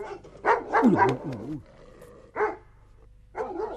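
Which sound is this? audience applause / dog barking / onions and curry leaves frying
dog barking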